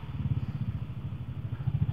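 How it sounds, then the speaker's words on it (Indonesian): A fairing sport motorcycle ridden at a relaxed pace, its engine giving a steady low, throbbing rumble with a pulsing rhythm, moderately close and not loud, with no voices over it. "motor gua tuh kalau dibawa santai kayak gini tuh nggak bakalan berisik"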